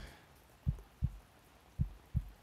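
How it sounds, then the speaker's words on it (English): A slow, soft heartbeat thumps in paired beats, two double pulses low and close, heard alone without talking in a comforting boyfriend roleplay. "is it the sound of my heartbeat that kind of calms you down"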